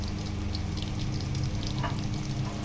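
Garlic and young ginger fry in a pan with a steady, close sizzle, a continuous low crackle that holds at an even level throughout with no talking.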